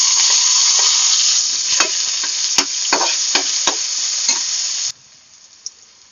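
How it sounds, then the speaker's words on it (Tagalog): Garlic and onion sautéing in a pan, a loud steady sizzle with sharp clicks of stirring over it, cutting off abruptly near the end to near silence with one last tap. "Magisa na po ako ng bawang. Ay, at sibuyas."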